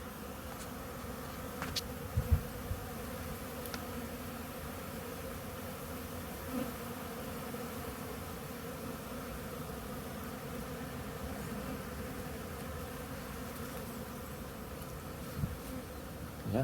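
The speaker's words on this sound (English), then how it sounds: "two colonies actually of honeybees. And you can probably hear them if I get in here nice and close" A steady, dense buzzing of two backyard honeybee colonies, heard up close and continuous throughout, with a few faint bumps and knocks.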